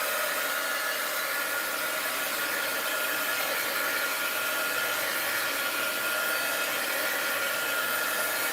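A hair dryer blows steadily on wet paint on a mixed-media art journal page, a constant loud rushing whoosh with a high whine that runs unbroken throughout, with no talking.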